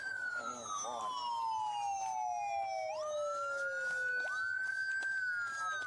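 Police car sirens wail in a video game, several overlapping tones sweeping down and back up loud and close, with engine rumble and bursts of background noise under them.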